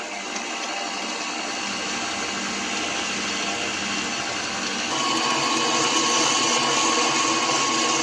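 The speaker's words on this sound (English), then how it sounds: "so now we're going to go ahead and add the egg yolks and let it mix." An electric mixer beats egg yolks for chiles rellenos, a steady close whirring drone that runs unbroken throughout and grows slightly louder partway through, with no talking.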